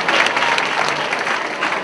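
Audience at a collegiate poetry slam in Tallahassee breaking into steady, dense applause, full and close, sustained throughout with no voices over it.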